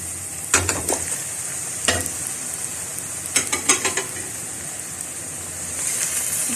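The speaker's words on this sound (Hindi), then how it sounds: "अब इसमें हम गोश्त डाल के फ्राई करेंगे।" Goat meat frying with softened onions for an Indian-Pakistani stew, a steady broadband sizzle with several sharp stirring scrapes and clinks of a utensil against the pan, close and fairly loud, no talking.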